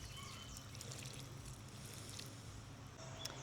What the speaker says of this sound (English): We're going to give her a good drink of water because it's dry